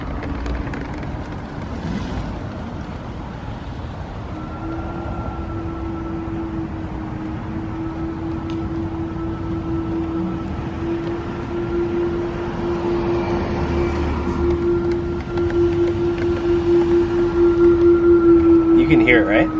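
A Tesla Model 3 reversing gives off a steady whining tone that climbs slightly in pitch, sitting over a constant low rumble of road and wind noise.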